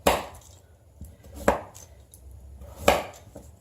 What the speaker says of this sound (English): I'm going to cut it in half, turn it half, and then each of the halves in half